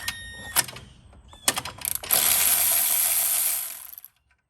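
A socket ratchet works a number 10 bolt on the air intake of a BMW 3 Series, giving a few sharp metallic clicks and knocks, then a longer rough grinding rattle that stops abruptly into silence.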